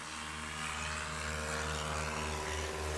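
Carbon Cub light aircraft taking off at a STOL competition, its propeller engine droning loud and steady throughout with a rough, throbbing tone and no voices.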